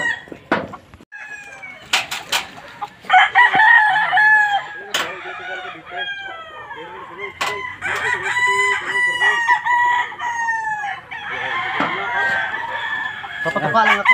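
A rooster crows repeatedly while chickens cluck close by in Alaminos, Laguna, with scattered sharp knocks and a few bits of human voice mixed in.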